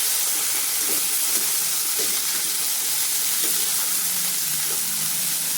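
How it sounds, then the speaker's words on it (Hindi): Cabbage, carrot and peas stir-frying in a pan over a full flame, giving a steady close sizzle with faint scraping stirs now and then, no voices. "मटर, इन सभी को डाल देंगे और अच्छे से चलाते हुए मिक्स करेंगे। इसको 1 मिनट हमने फुल फ्लेम पे ही भूनना है।"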